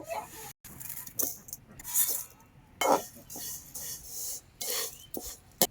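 Dry vermicelli is stirred and roasted in a hot pan, producing irregular scraping and rustling bursts with brief pauses between strokes, close and fairly quiet, no talking.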